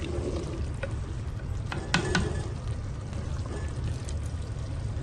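Aloo methi curry is dished out from the pot with soft scraping and spoon clinks, including a couple of sharper knocks near the middle, over a steady low background rumble.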